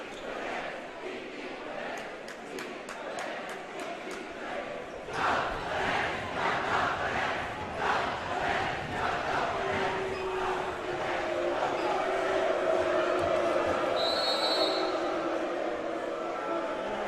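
Rival school crowds chanting at a boys basketball game in a gym, rhythmic clapping and shouted chants swelling louder and fuller after a few seconds, with an announcer talking over them.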